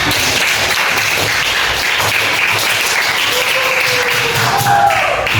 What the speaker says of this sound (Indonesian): Tepuk tangan juga buat temannya.